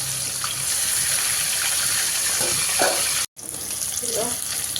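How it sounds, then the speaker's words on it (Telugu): Large chicken pieces deep frying in oil in a kadai give a loud, steady bubbling hiss that cuts out for a moment and then resumes, close up. "అట్లా సరిపోయిన వేసి ఫ్రై చేసుకోవాలి ఇట్లా మంచిగా."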